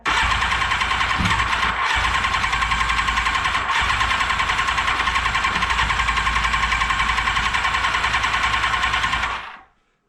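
A Yamaha FZR 1000 3GM motorcycle engine runs after a repair, a loud, steady, close-up drone that holds for about nine seconds and then cuts off abruptly.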